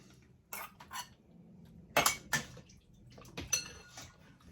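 Pork soup is ladled into a bowl with a series of clinks and metal-on-ceramic taps mixed with soft liquid splashes, close and fairly quiet, in short irregular bursts.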